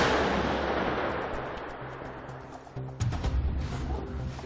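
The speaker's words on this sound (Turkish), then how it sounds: "Gerçekten büyük bir patlama olacak." A demolition charge goes off during a military demolition training course, a loud, deep blast whose rumble rolls on and slowly decays, followed by a second burst of crackling noise.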